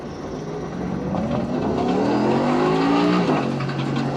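GT3 race car engine in iRacing, a loud, close droning roar that climbs steadily in pitch as the car accelerates, then drops briefly with a gear change, no speech.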